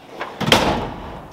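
A Kobalt tool box drawer, its soft-close mechanism removed, slams shut with one sharp, loud metallic bang and then a short rattling decay.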